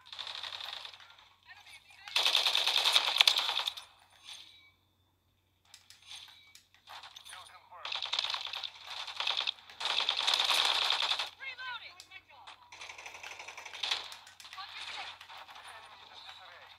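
Rapid automatic gunfire from Call of Duty: Modern Warfare 3 plays in several bursts of varying length, with short pauses between them, while players talk over the action.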